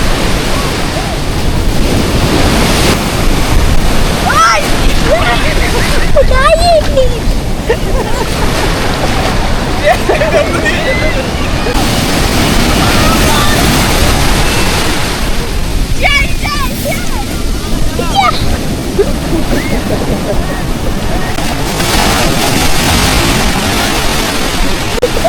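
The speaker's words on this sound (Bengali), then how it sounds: "বেশি দূরে যাওয়া যাবে না, কারণ ভিতরে প্রচুর ঢেউ হচ্ছে" Sea waves surge and break on Puri beach in a loud, continuous wash, with heavy wind buffeting the microphone and brief higher sounds scattered through the roar.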